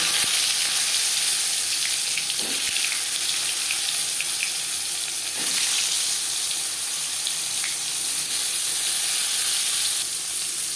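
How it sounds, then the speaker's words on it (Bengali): Marinated pointed gourd fries in hot refined oil in a kitchen pan, producing a continuous loud sizzle with a few faint pops and stirring clicks, without speech. "তেল গরম হয়ে গেছে এবার দিয়ে দেবো ম্যারিনেট করে রাখা পটল"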